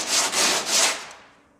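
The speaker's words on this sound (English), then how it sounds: "block sanding, always block in a cross hatch pattern" Steady back-and-forth abrasive rubbing of a sanding block on a classic Corvette body, three close strokes in an even rhythm, fading out at the end with no talking.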